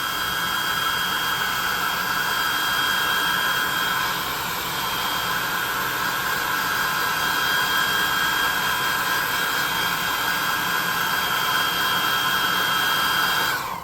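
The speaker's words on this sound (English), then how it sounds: "I'm using the light setting on my hair dryer" A hair dryer on its light setting blows steadily over hot glue on a tabletop model, a loud constant whooshing whir that holds for the whole stretch with only a slight dip midway.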